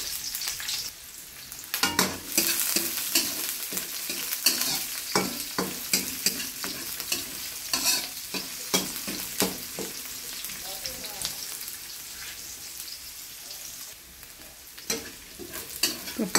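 Garlic and onion sizzle in a hot pan, with a steady frying crackle broken by repeated scraping strokes of a utensil stirring the aromatics.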